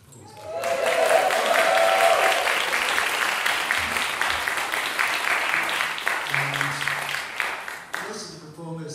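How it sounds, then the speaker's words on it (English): An audience applauds at a gospel concert by a choir, sustained crowd clapping rising quickly and holding for several seconds before thinning out, with a voice speaking briefly near the end. "That deserves a round of applause."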